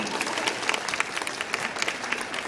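A small audience at a bread-baking master class gives a brief, lively round of applause, with quick scattered claps close by and no one talking over them.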